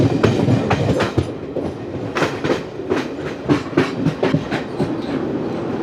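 The 12075 Jan Shatabdi Express, with ICF coaches, runs between Shoranur and Thiruvananthapuram, its wheels giving a loud, steady clickety-clack of repeated rhythmic rail joint beats over a continuous rumble. No voices.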